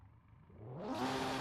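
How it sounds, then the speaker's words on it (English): Drift race car at Sochi Autodrom revving up, engine rising from a low rumble to a loud, rasping roar within a second, close by and heard alone. "These cars are loud."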